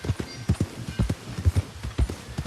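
Morgan horse hooves clip-clop in Red Dead Redemption 2, a steady, brisk rhythm, close and clear, with paired hoofbeats repeating throughout and no talking.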